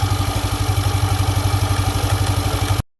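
Yamaha Aerox 155 scooter engine running with a noisy CVT and soft clutch spring while the rear wheel spins, a steady rhythmic clattering idle close by that cuts off abruptly at the end.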